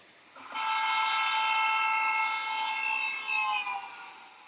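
A car horn sounds continuously and loudly for about three seconds, a steady multi-tone blare that holds its pitch before fading out.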